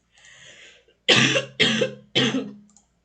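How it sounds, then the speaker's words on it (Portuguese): Three quick, forceful coughs in a row follow a short throat noise, close to the microphone with no talking. "Deixa eu dar uma tossidinha rápida aqui."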